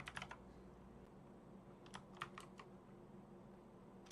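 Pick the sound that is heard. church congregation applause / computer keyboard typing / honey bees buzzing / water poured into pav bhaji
computer keyboard typing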